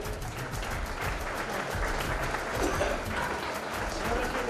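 Loud, sustained applause from a crowd at a school annual prize-giving ceremony, steady clapping filling the whole stretch without pause.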